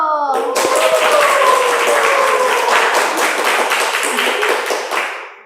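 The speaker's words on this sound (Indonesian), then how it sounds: "Beri tepuk tangan yang meriah buat Kak Yudi Winarto" Talk-show audience applauding a guest star, Kak Yudi Winarto, at an organisation talk show; dense, loud clapping starts abruptly and holds steady before tapering at the end, with faint vocal tones early on.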